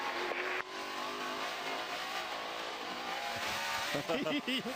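A NASCAR Nationwide race car engine at full throttle on the Montreal road course, a steady high-pitched roar held throughout, with race commentary talking over it and gear-change dips near the end.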